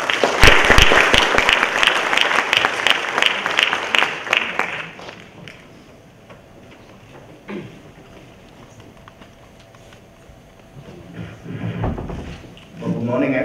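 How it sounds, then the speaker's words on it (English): Audience applause fills a conference hall at an internet developer summit in Hong Kong, dense clapping for about five seconds before fading, then a quieter stretch with faint room noise and a brief swell of clapping near the end. "please give a round of applause to Professor Joseph Ng"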